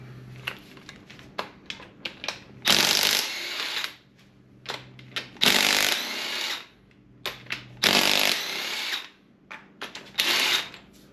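A cordless power tool zips out the one-time-use cylinder head fasteners on a Gen IV 5.3 Vortec V8 during a rebuild, several loud whirring bursts of about a second each separated by short clicks and pauses, close and alone.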